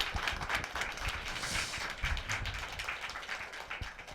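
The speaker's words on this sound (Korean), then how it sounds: "박수 한번" An audience claps at a poetry book showcase: a few seconds of steady, dense applause from a seated crowd, fairly close, without speech.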